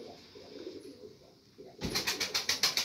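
Young Dutch tumbler pigeons in a loft during training give faint, soft cooing, followed by a run of quick, evenly spaced bursts that grow louder and repeat in a steady rhythm.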